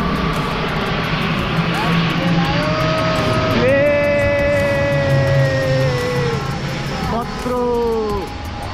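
Airplane flying low overhead, a continuous engine roar with rising and falling whining tones as it passes close by, mixed with outdoor background noise.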